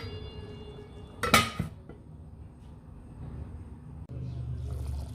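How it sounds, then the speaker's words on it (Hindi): A spoon clatters against a metal pot of chicken kunna in a short loud burst of scraping and clinking, then a low simmering rumble continues quietly. "इसे हम चम्मच हिला देंगे ऐसे।"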